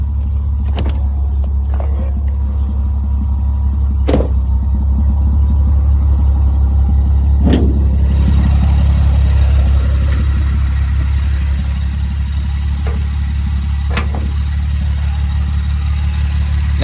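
A car engine idling with the hood open gives a loud, close, steady low rumble, marked by a few sharp clicks or ticks scattered across the stretch, and a faint hiss rising about halfway through.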